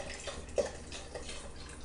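Water poured into a pot of Moroccan lentil soup with broth and lentils, a faint, brief liquid splash and trickle over a quiet kitchen background.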